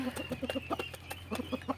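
A hen clucks in short, repeated bursts close by after being given feed, a quick irregular series of soft clucks with faint background noise.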